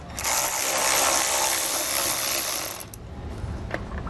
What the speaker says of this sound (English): taking this 12 millimeter bolt off on the driver's side